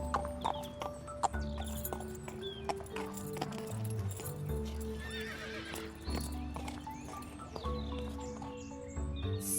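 Horse hooves clip-clopping at a walk in the Star Stable video game, with occasional neighs and whinnies and faint bird chirps around a stable and riding school setting, steady and fairly close.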